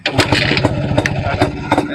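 A twin-silencer Jawa motorcycle engine sputters and catches after a kick, running in rapid uneven putters, loud and close with sharp bursts.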